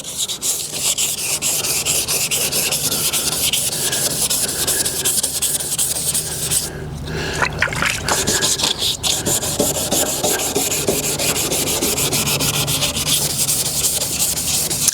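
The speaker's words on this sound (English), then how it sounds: "Now, you want to go the other way and give it a good sand." Hand sanding a foggy car headlight with 400 to 500 grit sandpaper makes a continuous, close scratchy rubbing with firm back-and-forth strokes that never stop, heard alone with no talking.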